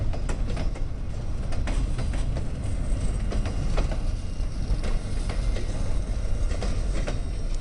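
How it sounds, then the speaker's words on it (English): A freight train rolls down a grade on a rail line, a steady low rumble with faint rhythmic clicks of wheels over rail joints, heard from a moderate distance with no talking. "we got an unidentified freight train coming down the hill here"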